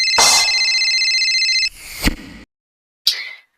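A mobile phone ringtone rings loud and close in repeated electronic tones for about a second and a half, then breaks into a few short bursts with brief gaps of silence between them.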